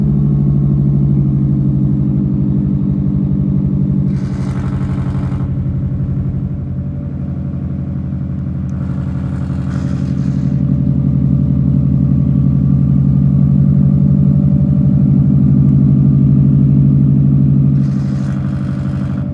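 A Metro 6R4 Impreza engine running without its silencer idles loudly and steadily at close range, a deep rumbling drone with a few brief rises in revs.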